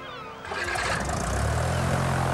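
An engine cranks and catches, then settles into a loud, rough, steady running roar close by.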